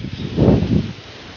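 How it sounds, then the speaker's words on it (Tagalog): Strong wind gusting across an open grassy field on a stormy monsoon day, a broad rushing roar that swells in the middle and eases off, heard alone. "sobrang lakas ng hangin"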